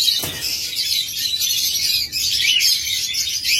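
Lovebirds kept in a breeding setup for sale chirp continuously in a dense, high-pitched twittering chorus, fairly loud and steady throughout, with one sharper call near the start and no talking.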